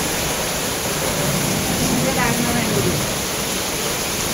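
Wind-driven heavy rain pours steadily over a Konkan village, a loud continuous hiss, while a faint voice briefly murmurs beneath it.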